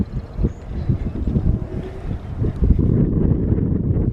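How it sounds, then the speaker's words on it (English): Wind gusting outdoors on an elevated walkway at the New Bedford hurricane barrier, a steady rushing roar buffeting the microphone at close range with low rumbling bursts throughout, and no talking. "Be a little bit windy up here,"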